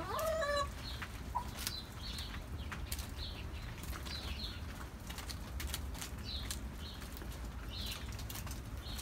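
A hen clucks faintly in a backyard flock during cold weather, with short scattered calls over a steady, low background hum and a brief higher trill at the start.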